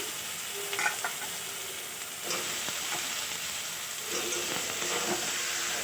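Potato pieces fry with dried chili powder, pepper and other spices in a pan, a steady close sizzle with occasional soft stirring scrapes and no talk.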